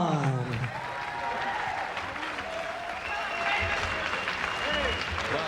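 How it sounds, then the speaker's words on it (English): Arena crowd at a professional boxing match applauds after a knockout, steady clapping and crowd noise under an announcer's amplified voice throughout. "big round of applause for his opponent"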